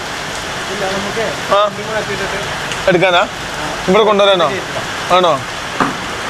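Steady rain pours down during unloading at a workshop, a constant wash of noise under several people talking close by.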